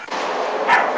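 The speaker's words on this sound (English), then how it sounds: "That's my dog Elvis." A dog barks once, fairly close, over a steady wash of background noise.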